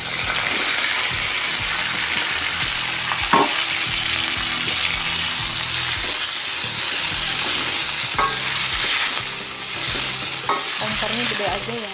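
Bean sprouts stir-fried in a hot pan for a cheap Indonesian tumis tauge dish with tongkol fish: a loud, continuous close sizzle and hiss, broken by occasional scraping stirs and clatters, with no voices.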